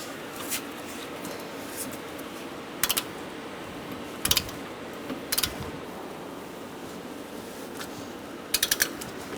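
Short bursts of ratchet-wrench clicking on a strut bolt of a 2010–2013 Kia Soul during a front strut and spring replacement, with several brief quick clusters separated by quiet pauses over a faint background hiss.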